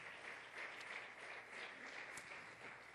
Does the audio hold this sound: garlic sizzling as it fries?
no